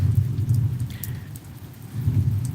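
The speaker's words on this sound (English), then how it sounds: "we're just out here watching this lightning storm" Rain falls steadily through a lightning storm while low, rolling thunder rumbles in the background, swelling near the start and again toward the end; no one speaks.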